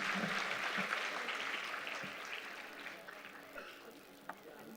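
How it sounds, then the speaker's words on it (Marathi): An audience applauds after the mayor's speech at a Maharashtra event, a dense burst of clapping that starts strong and gradually thins out over several seconds. "एकदा पुन्हा जोरदार टाळ्या होऊन"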